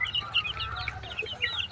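Chickens on a layer poultry farm clucking continuously, with several birds calling over one another at close range, a busy, steady flock chatter with no speech.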